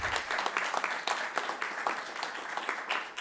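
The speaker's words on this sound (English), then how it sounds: "a big round of applause" An audience at an Armenian General Benevolent Union event applauds, a close, sustained wash of many hands clapping with no talk.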